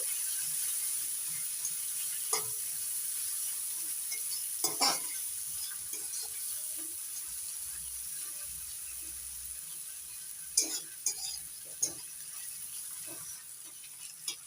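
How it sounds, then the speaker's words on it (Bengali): Chopped onions sizzle steadily in hot oil in a pan while a spatula scrapes and stirs them now and then, clicking against the metal, with no talking. "পেঁয়াজ কুচিটা হালকা লাল থেকে একটু ভেজে নেব।"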